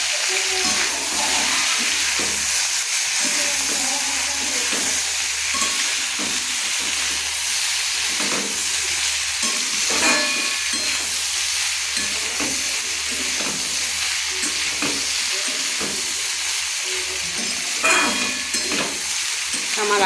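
Potatoes fry over a high flame in a pan with salt and turmeric, a loud continuous hissing sizzle punctuated by repeated close stirring and scraping knocks.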